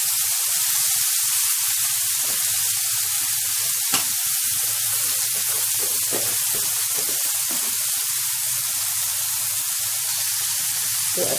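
Rice sautéing in a pan with onion and chicken gizzards, a constant close frying hiss with intermittent stirring scrapes and a sharp tap partway through.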